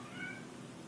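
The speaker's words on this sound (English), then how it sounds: "The cat's talking to us too." A house cat gives a single brief meow indoors, fairly soft and nearby, over quiet room tone.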